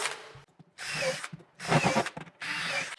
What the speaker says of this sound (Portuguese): E vou parafusar lá atrás também.